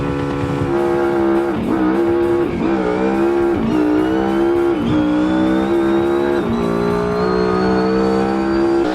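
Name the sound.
SBR4 drag car accelerating down the strip, from BeamNG video game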